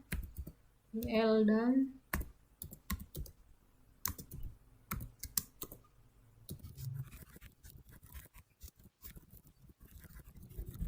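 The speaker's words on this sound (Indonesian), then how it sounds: "kemudian kita saat kembali ke terminal biasa ketik perintah MySQL" A MySQL command is typed on a computer keyboard, heard as scattered sharp key clicks in short bursts, close and fairly quiet. Someone speaks briefly near the start.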